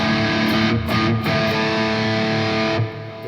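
Electric guitar playing a lead tone through a NUX MG30 multi-effects unit, sustained distorted notes ringing close and loud for a few seconds with no talk.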